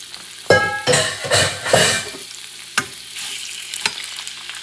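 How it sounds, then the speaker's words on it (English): Pork ribs going into a preheated pan: several loud bursts of sizzling as pieces land and are moved, then a quieter steady fry with a couple of sharp knocks against the pan. "Have the heat already preheating, the pan. What I'm going to do now is bring the pork ribs."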